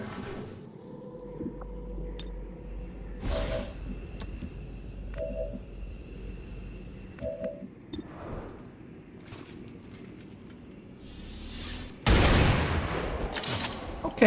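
Gunfire in the turn-based strategy game XCOM 2, modded with the Beyond Legendary pack: a few scattered sharp shots and bursts over low game ambience, with a louder, denser volley near the end.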